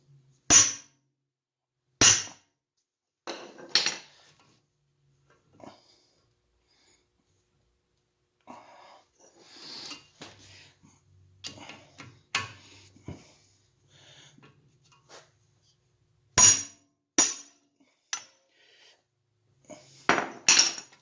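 A hammer strikes a Pittsburgh impact screwdriver to loosen a screw, giving sharp metallic cracks in scattered pairs with quieter handling clatter and shuffling between them.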